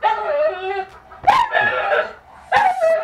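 A mother dog barks near her fifteen-day-old puppies while they are being dewormed. Loud, sharp barks and whiny yelps repeat close by, and people talk in the background.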